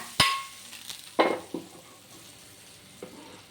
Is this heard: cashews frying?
yes